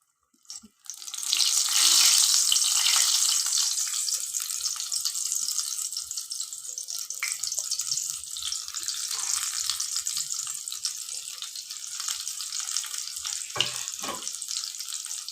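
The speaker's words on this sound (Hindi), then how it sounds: "ऑयल बहुत अच्छे से गर्म हो चुका है। अब हम इसके अंदर ये रोल्स को डाल देंगे।" Chicken spring rolls frying in hot oil in a pan over a medium flame, a loud steady hiss and crackle that starts abruptly and continues throughout with a few sharper pops near the end, no talking.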